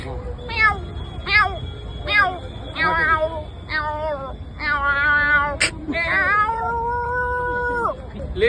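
A man at the Ashadhi Wari pilgrimage imitates a cat, giving a quick run of short meows followed by longer drawn-out mewing and a final sustained caterwaul, close and loud against a faint background hum.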